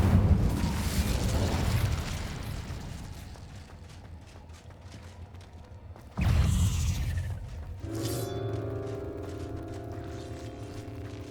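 In the Hogwarts Legacy video game, the Incendio fire spell erupts with a sudden loud whoosh and flare partway through, then settles into a sustained crackling hum against a low rumbling backdrop.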